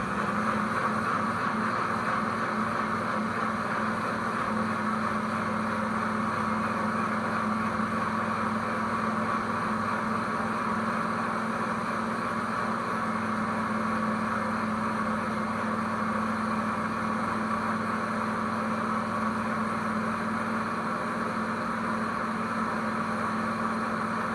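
A countertop blender on a custom blend at speed 2, pureeing a hidden-vegetable pasta sauce, a steady motor whir with a constant hum that holds unchanged for a long stretch, no voices.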